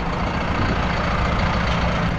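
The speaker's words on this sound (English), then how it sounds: "Trucker Tim unloading a tractor at LAMMA Show." A Scania V8 tag-axle truck rumbles loudly and steadily at close range while a new tractor is unloaded from it at the LAMMA Show, a dense unbroken engine roar with no voices.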